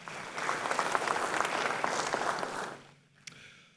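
A big round of audience applause at an honorific lecture in Ghana for the Republic Bank managing director, dense clapping from a hall crowd that fades out after about three seconds.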